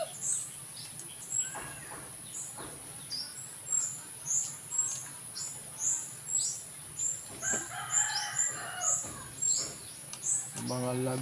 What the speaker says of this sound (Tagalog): Mga alaga kong kulasisi, huni na lang huni.